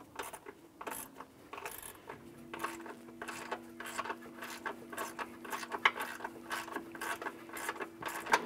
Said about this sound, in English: we'll go ahead and tighten this bolt down, and then we'll go back and tighten up the other two bolts